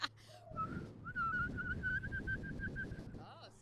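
A man imitating a songbird by whistling, a sustained bright warbling whistle with rapid trills lasting about two seconds, close and clear over a faint bar-room murmur, ending with a short breathy note.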